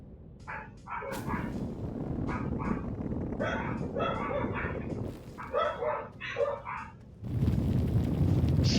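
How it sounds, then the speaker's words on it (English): Several dogs bark loudly in repeated bursts over a steady rumbling background, fairly close, with short gaps between volleys and the droning noise swelling at the end. "Such loud dogs."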